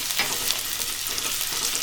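Garlic and chilli sautéing in butter, a continuous bright sizzle and crackle from the pan with no voices.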